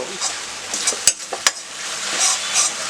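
Cabbage manchurian frying on high flame with vinegar in a pan, a steady bright sizzle broken by a few sharp metallic clanks of a spoon or ladle tossing it.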